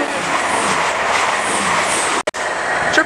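An East Midlands Trains Class 222 passenger train, running from Corby to St Pancras International, roars past Harlington station at speed with a loud, steady rushing noise, briefly cut by two sharp gaps before continuing.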